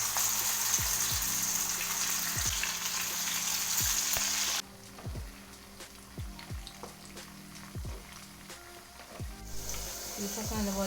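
Pieces of beef dropped one by one into hot coconut oil, loud steady sizzling at first, then quieter bubbling frying broken by clinks and scrapes, with the sizzle rising again near the end.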